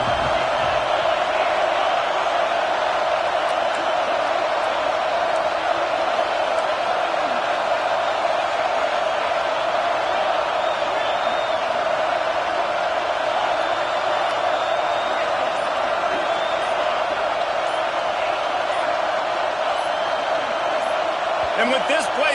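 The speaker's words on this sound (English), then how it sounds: "And with this place rocking, the crowd forces a false start." A packed stadium crowd at a football game roars steadily and loudly throughout, a dense wall of noise rocking the venue while a commentator talks over it.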